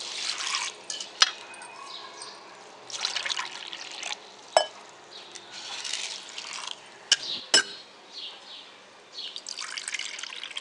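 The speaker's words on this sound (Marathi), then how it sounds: "त्याच्यामध्ये बरोबर 3 कप पाणी घालून साबुदाणे व्यवस्थित स्वच्छ धुवून घ्यायचे." Water is poured over sago pearls in a bowl for washing. Trickles and splashes come in short bursts with sharp clicks between them, close and fairly quiet.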